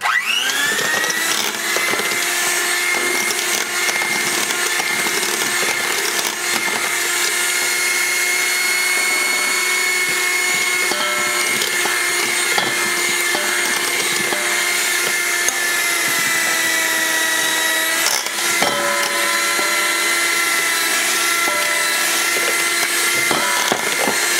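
An electric mixer whirs steadily through waffle batter of milk and flour for Belgian waffles, a sustained motor hum with a constant pitch and brief dips near the end, no talking.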